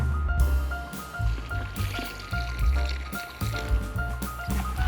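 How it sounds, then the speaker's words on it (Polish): Water is poured and mixed into dry fishing groundbait by hand, giving close, wet squishing and sloshing sounds in uneven bursts with a faint tonal hum in the background and no talk. "teraz dodam trochę tej mojej wody."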